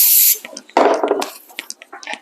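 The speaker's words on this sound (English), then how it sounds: "I'm going to spray my hands with some non-stick spray." A short burst of non-stick cooking spray hisses onto hands, followed by soft rubbing and sticky handling sounds, close and quiet.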